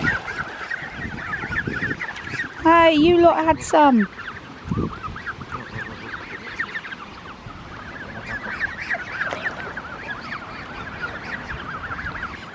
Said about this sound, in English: Oh, now there's going to be a goose fight.